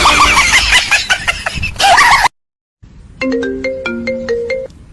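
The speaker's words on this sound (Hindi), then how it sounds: "पापा का फोन आ रहा।" Loud, noisy ambience cuts off abruptly, then after a brief silence a bright electronic ringtone melody plays, repeating its short rising pattern of tones.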